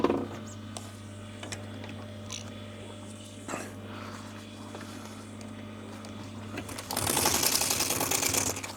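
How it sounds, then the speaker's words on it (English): A sewing machine stitches piping onto vinyl fabric covering a moulded plastic boat part, a steady low motor hum with faint ticking, then a louder rattling run of stitching near the end, close and without talk. "So I'm going to sew the piping onto the face part"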